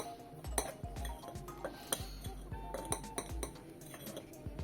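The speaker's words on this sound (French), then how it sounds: "Je mélange la farine et la levure." A spoon stirring flour and baking powder in a bowl, quick repeated scraping clinks of metal on the bowl in an uneven rhythm, close and fairly soft.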